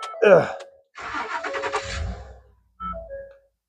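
A starter whirs briefly and the engine of a wrecked 2011 Ford F-150 pickup truck catches and turns over, followed by a short idle-like rumble with a faint chime.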